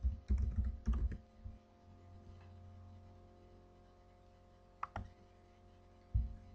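Computer keyboard typing as a folder name is entered: quick clusters of close, quiet key clicks at the start, then scattered single taps over a faint steady hum, with no talking.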